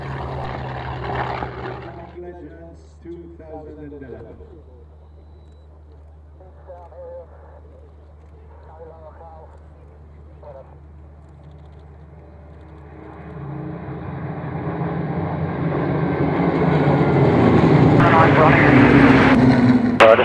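Spitfire and Messerschmitt Bf 109 warbirds at a Duxford airshow, their piston engines swelling from a faint drone into a loud, sustained roar that builds over the last several seconds, with radio-style voices speaking in the early part.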